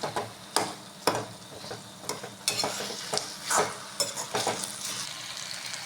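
Tomatoes frying in a pan for a Tamil village-style tomato kadaisal while being mashed, with a steady sizzle broken by repeated sharp scraping and stirring strokes at irregular intervals, close and moderately loud.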